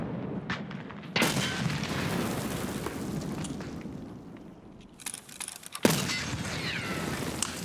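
Grenade blasts in the squad shooter Escape from Tarkov, two sharp broadband booms a few seconds apart, each with a rolling tail, over steady in-game rumble and background gunfire.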